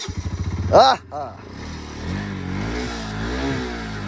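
A faulty motorcycle engine putters rapidly, then revs sharply and cuts out, followed by someone talking over a low idling rumble; the bike starts but will not run.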